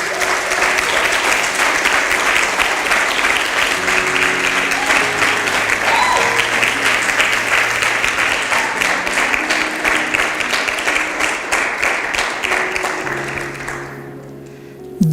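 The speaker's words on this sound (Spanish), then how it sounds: "Denle un aplauso ahí al Señor." A church congregation gives long, full applause during a Spanish-language service, a continuous roar of clapping with faint organ or keyboard tones sustained underneath, tapering off near the end.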